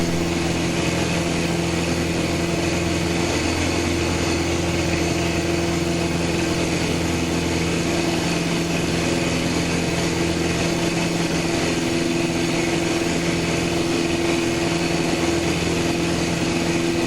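A Cubcrafters Sport Cub light aircraft's engine drones loud and steady while the plane climbs after takeoff, with a constant hum and no break.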